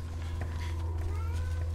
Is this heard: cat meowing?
yes